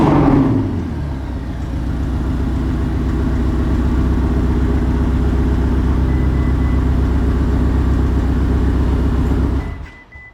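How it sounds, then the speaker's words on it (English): A Ferrari 488 engine idles roughly with a misfire, a steady uneven low rumble that continues close and loud for about ten seconds before cutting off near the end; no talk. "You can hear the whole car shaking."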